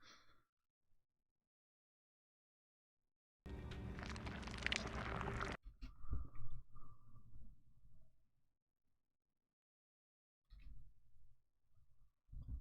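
Wet squishing and crunching from a horror TV episode, Dreams in the Witch House: a dense, harsh burst lasting about two seconds, then softer rustling and breathy sounds, with low muffled noises returning near the end.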